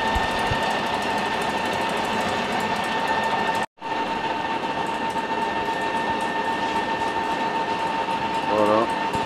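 An electric mixer whips egg whites with sugar in a steady, loud, continuous whir with a rattling edge, cut by a brief pause near the middle before resuming.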